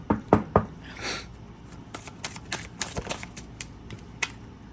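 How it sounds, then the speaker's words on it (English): Tarot cards being shuffled by hand, a close series of sharp riffling snaps and soft taps, uneven and fairly loud against a quiet room. "that was a terrible shuffle. Let's do one more."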